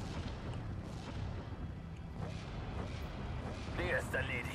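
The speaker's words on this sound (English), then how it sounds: "an American artillery landed in my positions, taking out the MG42 and more importantly destroying my observer" Artillery shells land in the WWII strategy game Steel Division: Normandy 44, dull booms and rumbling impacts at mid distance over a continuous battlefield din, with a whistling sound toward the end.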